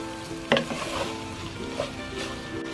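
Chinese fried rice with shrimp and egg stirred in a hot pan: steady sizzling frying with a scrape and clatter of the utensil against the pan, close and continuous.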